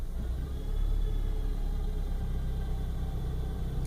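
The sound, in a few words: Astra Mk4 air conditioning compressor whirring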